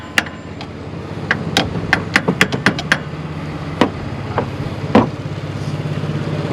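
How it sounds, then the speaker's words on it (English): Sharp metallic taps seat an alternator into place on a 1997 truck: an irregular burst of about a dozen close knocks, then a few isolated hits over a low background hum. "Tap it in."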